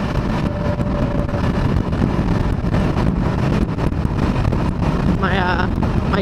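A Kawasaki Ninja 500R motorcycle cruises at 60 mph, with a steady roaring engine drone buried in heavy wind rush. A rider speaks over it briefly.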